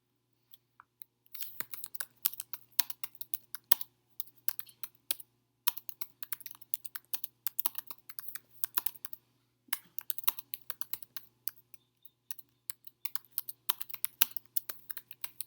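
Steady typing on a computer keyboard, with quick bursts of key clicks broken by short pauses, close and clear over a faint low hum, with no talking.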